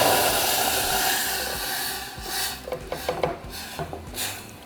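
Salsa hitting hot oil in a saucepan, a loud rushing hiss at first that settles into softer crackling sizzle with scattered pops.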